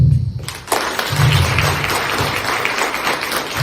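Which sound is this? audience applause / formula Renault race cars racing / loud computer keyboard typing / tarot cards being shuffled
audience applause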